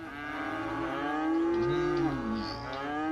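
A cow in the farmland of Cities: Skylines moos in a long, loud, drawn-out low call that bends in pitch partway through, heard alone and close with no talking.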